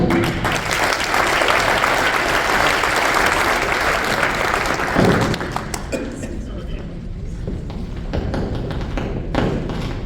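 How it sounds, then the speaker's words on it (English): Audience at a state legislator forum held by Panhandle Republican Women claps loudly for about five seconds, dense and close, then the applause thins out to scattered claps and thumps under a quieter room. "I'm going to ask everyone to please hold your applause"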